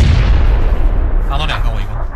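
A grenade explodes in the battle royale game PUBG, a heavy booming blast with rumbling low end that rolls on under excited voices talking over it.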